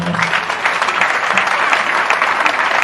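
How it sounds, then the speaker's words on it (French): Steady audience applause fills the whole stretch, many hands clapping densely at a constant loud level, with a faint voice briefly underneath at the start. "Et j'aimerais qu'on applaudisse pour ma maman."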